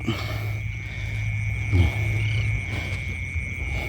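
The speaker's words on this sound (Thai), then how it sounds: "เขียด" Small frogs croak in a steady, low, guttural chorus outdoors, with a constant insect-like whine above and a louder croak standing out midway.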